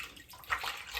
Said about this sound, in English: I filled the pan with lukewarm water and added probably too much soap